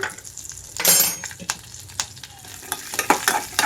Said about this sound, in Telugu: పల్లీలు వేసిన తర్వాత పచ్చిమిరపకాయలు కూడా వేసి వేయించుకుంటున్నాను